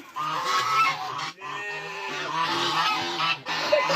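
A goose honks repeatedly in loud, nasal bursts, with a couple of brief pauses between the calls.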